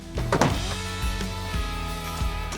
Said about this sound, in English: The tailgate has a power release with GMC's Multi-Pro feature that we've seen on other GM products.